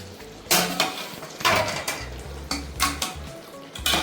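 Hyderabadi dum chicken pot being opened and stirred: a rhythmic series of loud metal scrapes and knocks of a spoon against the pot, close up, over a faint sizzle, with no talk.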